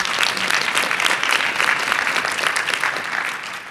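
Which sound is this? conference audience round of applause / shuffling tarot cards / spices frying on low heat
conference audience round of applause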